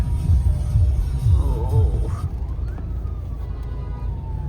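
An ambulance siren wails faintly in the distance, rising then slowly falling, over a low rumble of traffic.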